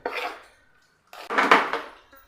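Cooked rice and grated coconut are mixed in a bowl with a spoon: two short bursts of close scraping and clattering against the bowl, separated by a brief pause.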